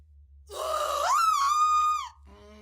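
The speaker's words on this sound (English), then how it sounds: "her scream hadn't aged well" A woman's drawn-out scream in the video game What Remains of Edith Finch, rising into a wavering, strained wail, loud and alone for about a second and a half before cutting off.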